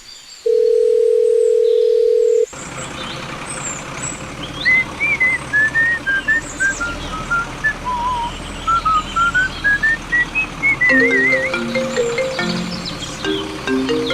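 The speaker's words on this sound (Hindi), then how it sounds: "अरे अरे, किसका फोन आ गया रे?" A telephone gives a steady electronic tone for about two seconds, then a melodic warbling ringtone plays on for an incoming call, loud and near, with no talking.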